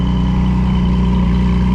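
A Porsche 718 GT4 fitted with over-axle exhaust pipes, its engine giving a steady low idle rumble, loud and close throughout with no change in pitch.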